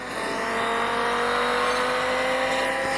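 A Lotus race car engine revs hard in a racing video game, a loud sustained high-pitched whine with steady tonal harmonics that hold and climb slightly, no voices over it.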